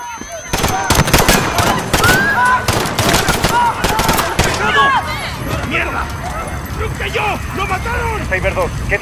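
Call of Duty gunfire in the Piccadilly mission, with dense rapid bursts of automatic shots up close and loud during the first half, then sporadic shots and scattered cries under tense shouting voices.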